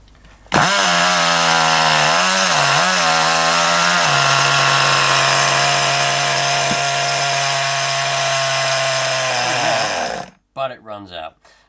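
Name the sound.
old nitro RC car engine trying to start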